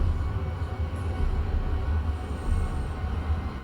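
A train rolls past on its tracks in steady rumbling motion, with a continuous low rail-car drone holding even throughout and no voices.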